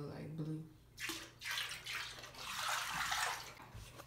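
Water in a bathtub sloshes and swirls in bursts as it is stirred for a milk bath, close and fairly quiet, with a voice briefly speaking at the start.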